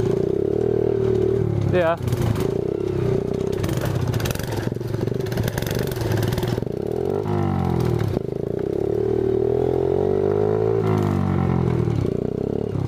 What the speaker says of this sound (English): this four-wheeler is like perfect for little trails like this